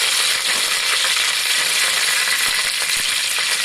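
Curry leaves and mustard seeds crackling in hot oil for tomato pickle, a loud dense sizzle with rapid popping and spitting that continues steadily, close up with no speech.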